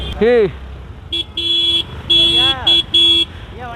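A Bajaj Pulsar NS200 motorcycle horn toots in several short, sharp bursts at close range, with someone speaking between honks.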